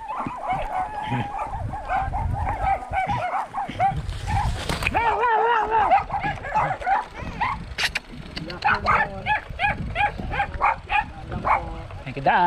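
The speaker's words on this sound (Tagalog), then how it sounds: "Dami aso." Many dogs bark and yip in a noisy chorus along a mountain road near San Andres. Overlapping barks come from several distances, with whimpers mixed in, and people talk underneath.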